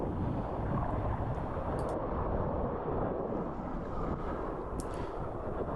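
Gusty wind of roughly 7 to 20 knots roars steadily across the microphone while windsurfing on open water, a constant dense rumble that never lets up.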